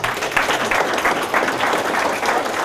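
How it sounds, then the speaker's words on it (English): Sustained applause from an audience at the close of a real estate investing talk, a dense, steady wash of many hands clapping at moderate loudness throughout. "Give a fellow a round of applause"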